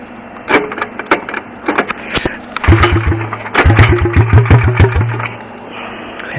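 Honda ATC 200S three-wheeler engine pull-started by cord: a few sharp tugs and coughs, then the engine catches and runs with a rough, uneven idle, close and fairly loud, with no talking.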